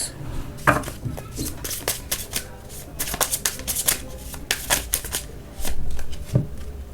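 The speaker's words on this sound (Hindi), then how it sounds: "कार्ड शफल कर रहती हूँ।" Tarot cards are shuffled by hand: a rapid run of crisp riffling flutters and slaps, close and fairly loud, coming in bursts with brief pauses between them.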